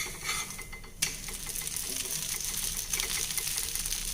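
A dosa made from parboiled rice batter sizzling on a hot pan after being flipped, a continuous close frying hiss with one sharp clack as the dosa turns, followed by light scraping.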